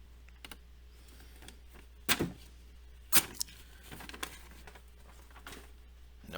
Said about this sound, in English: We got to go through paper because that's what knife people do. We cut through paper.